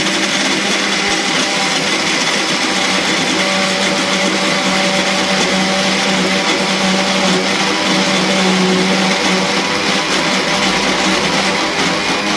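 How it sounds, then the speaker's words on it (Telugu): A mixer grinder blends curry leaf chutney, a loud, steady, close whir with a rough grinding edge that runs without pause for the whole stretch. "ఇంకొన్ని గ్రైండ్ చేస్తున్నా."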